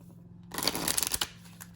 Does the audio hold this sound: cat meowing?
no